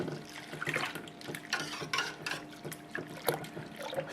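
Cold tap water runs and overflows from a vessel during home-brew wort cooling, a quiet continuous splashing and trickling with faint clinks of pots.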